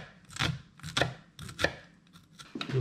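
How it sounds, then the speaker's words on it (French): A knife chops a shallot finely on a cutting board, with five or six crisp, fairly even strokes close by and no talking. "Maintenant, je vais m'occuper de mon échalote ciselée."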